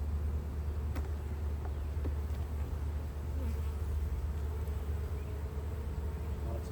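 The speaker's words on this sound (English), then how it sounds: "Lots of bees." Honey bees buzzing thickly around an open hive being inspected, a steady dense drone close to the ear with individual bees flicking past, no talk.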